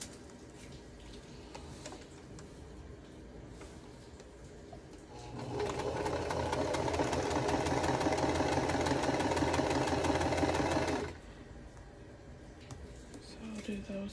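A sewing machine runs steadily for about six seconds, stitching fabric triangles for a quilt block, with quieter handling sounds before and after.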